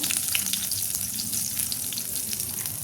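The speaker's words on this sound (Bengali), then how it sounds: "আলুটা সিদ্ধ হয়ে গেছে, আলুটাও ভেজে নেব" Boiled potato fries in a pan with a steady, close sizzle and crackle, an even hiss of hot oil that continues alone throughout.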